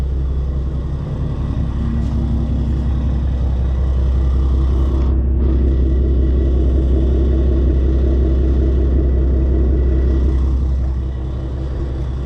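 A 2014 Ford Mustang with the 3.7 V6 and BBK longtube headers, fitted with used Roush quad-tip exhaust, idles with a deep, steady rumble close by, with a slight swell midway, and no talking.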